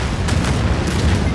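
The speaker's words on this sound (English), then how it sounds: "That's a missile barrage of them." Missile barrage explosions from the Anno 2205 video game, a loud, dense rumble of overlapping booms and blasts rolling continuously with no voices.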